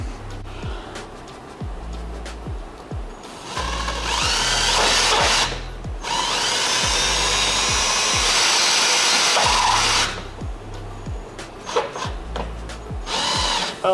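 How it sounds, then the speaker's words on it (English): A power drill bores out fasteners on a Toyota GR86 car hood, whirring loudly in a long sustained run between shorter starts and stops, with faint rhythmic clicking underneath. "all right, let's drill them out"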